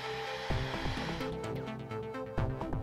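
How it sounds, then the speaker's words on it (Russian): A handheld hair dryer blows warm air to speed the drying of glue on foam padding for a camera gimbal case. The steady whir runs throughout alongside other tonal sounds. "Процесс можно немножко ускорить. Включаем фен."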